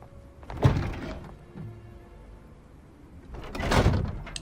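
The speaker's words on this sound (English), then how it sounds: "The door closes behind me." A heavy vehicle door in the game Love and Deepspace shuts with a dull thunk, followed a few seconds later by a second, broader closing thud, with quiet between them.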